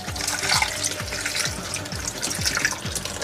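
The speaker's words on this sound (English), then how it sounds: "So I'll just add water." Water pours from a vessel into thick coconut milk in a pot, a continuous close splashing and gurgling stream lasting a few seconds, with no voices over it.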